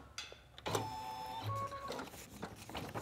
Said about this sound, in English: bring it over to the sewing machine so I can embroider